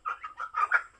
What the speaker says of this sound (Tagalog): Makukulit kong mga manok ayaw magsipasok kasi alam nilang hindi sila makakalabas